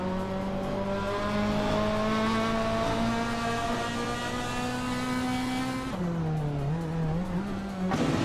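Race cars in a racing video game hold steady, loud engine drones as they overtake, with a brief drop in pitch around the six-second mark as the engines dip and climb again; continuous and close.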